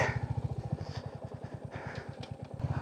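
A motorcycle engine chugs in a rapid, steady rhythm while the bike rides along a muddy, rain-soaked track, loud and close throughout with no talking.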